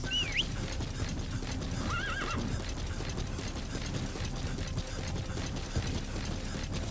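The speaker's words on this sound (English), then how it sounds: "Come on, horse." Horse in Metal Gear Solid V neighing with a rising whinny near the start and again around two seconds, over a steady bed of rhythmic hoof clip-clops and mechanical clanking game ambience.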